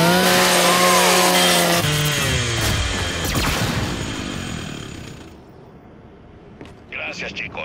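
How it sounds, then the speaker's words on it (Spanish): A Lancer chainsaw bayonet revving in the Gears 5 video game, grinding loud and close under game effects and talk for several seconds before dropping off to quieter background sounds. "Usa la motosierra de tu Lancer"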